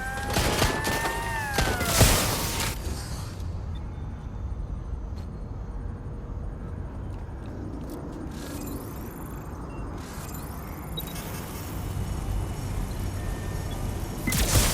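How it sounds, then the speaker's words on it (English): Bursts of gunfire in the video game Watch Dogs: Legion crackle and pop amid a dense, noisy battle din, louder at the start and end, with steady rumbling background throughout. "I'm hearing gunfire."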